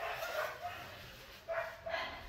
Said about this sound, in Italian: È un cane veramente docile, Wanda.